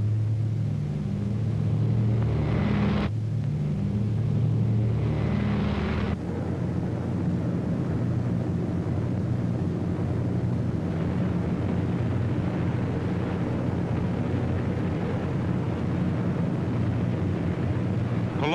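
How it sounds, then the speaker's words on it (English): Heavy WWII RAF bombers drone overhead during a raid on German industrial targets, a loud, continuous low engine rumble with a surge of explosive pounding in the first few seconds, steady and dense throughout. "Hitler's Fortress Europe rocked under the terrific pounding of RAF bombers."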